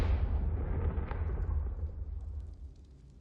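A Confringo fire spell explodes in Hogwarts Legacy: a heavy, booming blast that rumbles loudly at first and then slowly decays over a few seconds, with no talking.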